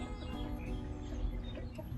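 Laying hens cluck in a backyard coop being fenced in, their calls scattered over a dense, steady wash of background noise.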